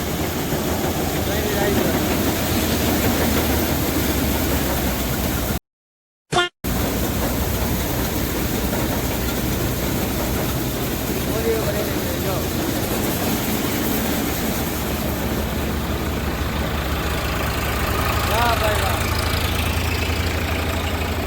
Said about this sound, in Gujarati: આ જો હરિયાણાનો થેસર છે ને